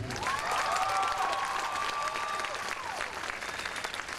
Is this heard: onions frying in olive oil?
no